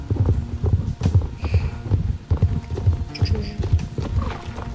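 Rhythmic video game horse hoofbeats clip-clop at a steady trot, close and regular, with a faint hum and a few soft tones in the background.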